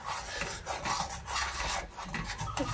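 Mango pulp being stirred into a pot with a utensil, a series of raspy scraping strokes against the pot in an uneven rhythm, close and fairly quiet, with no talking.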